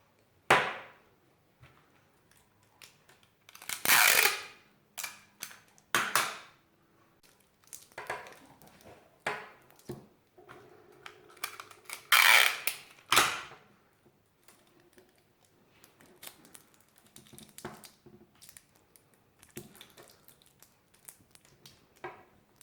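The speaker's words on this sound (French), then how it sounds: "je vais mettre du scotch pour bloquer tout ça" Adhesive tape is pulled and pressed onto a homemade electromagnet built around a spoon, giving scattered sharp ripping bursts and short crackling tears separated by quiet pauses, close up with no talk.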